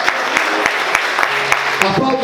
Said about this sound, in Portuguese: você pode glorificar e aplaudir o Senhor nessa noite